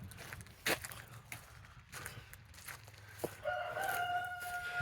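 A rooster crows late in the clip, rising and sustained, after scattered clucks, footsteps and barn noises from a hen flock nearby.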